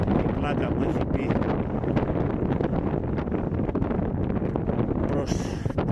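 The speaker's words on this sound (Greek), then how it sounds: "Φυσάει εδώ, κάνει λίγο κρύο." Cold wind gusts steadily across a snowy winter slope of Mount Dirfi, a continuous loud roar buffeting the microphone, with a voice speaking faintly beneath it.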